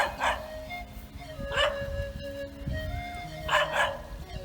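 A dog barks in the Thai countryside beside a growing cornfield near a dam: several loud, sharp barks, some paired, spaced over a low rumbling outdoor background.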